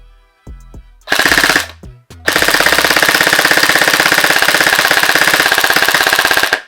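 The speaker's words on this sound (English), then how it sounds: "Let's put it on full out and see how fast it shoots RPS wise." Emerbu PDX gel blaster firing on full auto: a brief motor whir and a short burst, then a long rapid, evenly spaced stream of shots, loud and close, cutting off abruptly.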